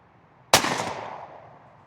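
Single sharp blast from a 20 gauge Winchester SXP pump shotgun firing a Winchester Longbeard XR turkey load of number 5 shot, preceded by quiet and followed by a fading outdoor echo.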